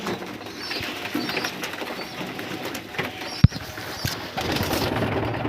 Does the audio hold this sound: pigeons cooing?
yes